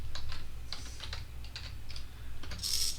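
Keys tapped on a computer keyboard while entering a mode command for an Arduino-style servo circuit project, a quick run of light clicks in small bursts, close and clear with a low steady hum underneath and no talking.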